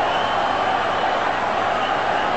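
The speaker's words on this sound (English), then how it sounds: "Crowd letting him know about it as well." A large cricket stadium crowd in Nagpur during a 2007 one-day international, a constant dense roar of many voices at steady loudness with no break.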